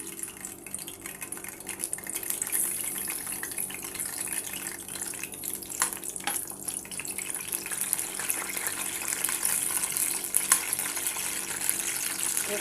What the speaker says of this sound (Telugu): పెనంలో కొంచెం ఆయిల్ వేసుకొని మనం పచ్చిమిరపకాయలు అనేది వేసుకుందాం